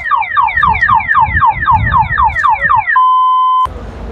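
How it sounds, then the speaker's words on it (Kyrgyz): A 1997 Audi A6 car alarm blares up close at a Bishkek car market, cycling through rapid warbling chirps, then a steady tone, then cutting out abruptly. "Сигналкасы менен келди."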